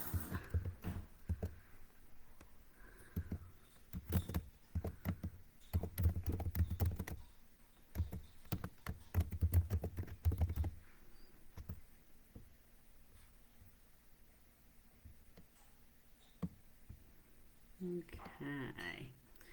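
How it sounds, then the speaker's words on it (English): Quiet computer keyboard typing comes in bursts of soft clicks during an online meeting, with a person talking over and between the keystrokes. "I just typed in my name"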